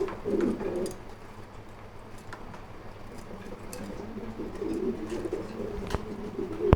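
Pigeons coo at a pigeon farm, several low throaty calls rising and falling in bursts, close and moderately loud over a constant background hum, with no talking.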